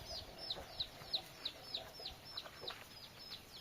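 A rooster gives a steady series of short, sharp clucks, about three per second, fairly close over a quiet outdoor background with a faint high hum.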